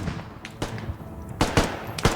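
Gunfire in the video game Squad pops in scattered single shots and short bursts, getting louder and closer together toward the end.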